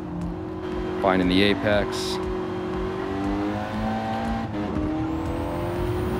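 A car driven in Gran Turismo 7, engine droning steadily under power with brief rising gear shifts, while someone talks over the sound.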